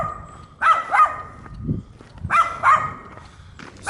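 A dog barks outdoors in a garden community setting, giving a few short barks in two separate bursts at moderate distance, with no talk over them.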